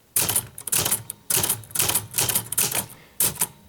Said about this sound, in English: Now let's say we're riding along and you hear the ding.